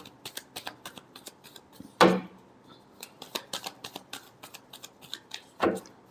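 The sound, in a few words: shuffling tarot cards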